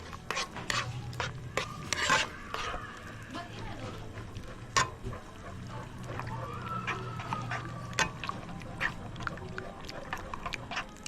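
Buffalo wings being mixed by hand in a bowl outdoors, wet squelching and rubbing with sharp clicks and knocks scattered irregularly, fairly close and moderately loud.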